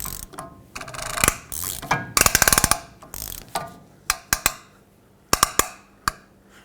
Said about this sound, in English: Give it a few spins to make sure that it's seated.